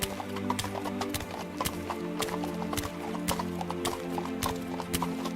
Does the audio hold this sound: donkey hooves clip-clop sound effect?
yes